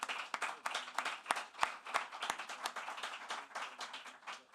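Audience at a COP28 climate conference session applauding a panel, a thin, scattered round of individual claps with distinct sharp slaps standing out over a softer patter, fairly close and without talk.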